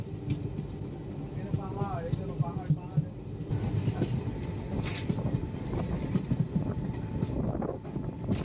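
A night train running from Madurai Junction toward Bangalore rumbles steadily with low rolling wheel noise and occasional clanks, a brief squeal early on, and faint voices in the carriage.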